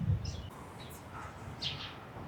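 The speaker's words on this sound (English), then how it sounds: "Spring is here and birds are just so happy, and I'm happy too." Birds singing outdoors on a spring day, a few faint high chirps and short calls scattered over steady low background rumble.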